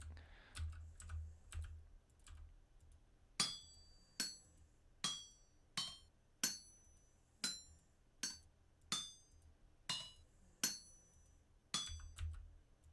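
Crafting a pick in a video game brings about a dozen sharp, ringing metallic hammer strikes at an even pace, each one close and clear with a short decay. Lighter taps come first.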